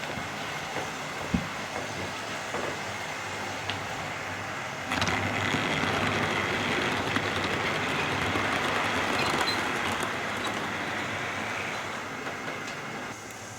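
Tri-ang model railway locomotive running on its layout track and heading toward a tunnel, a soft continuous whirring rumble with faint clicks that grows louder and busier midway as it draws nearer.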